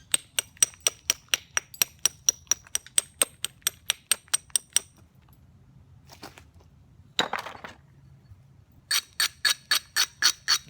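A stone spall is knapped by direct percussion into a biface, giving a fast, even run of bright, glassy clinking strikes. A brief scraping grind follows after a pause, then another quick burst of ringing hits, all close and clear.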